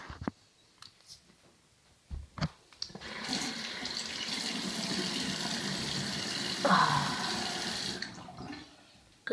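A tap runs into a bathroom sink during face washing: a few small knocks and taps, then a steady close splashing stream of water for several seconds before it cuts off.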